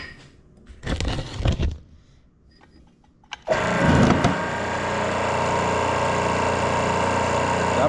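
A pump connected to a 1500-watt double copper lighting transformer runs in low gear, starting abruptly after a few soft handling noises and then holding a loud, steady mechanical drone with a buzzing rattle.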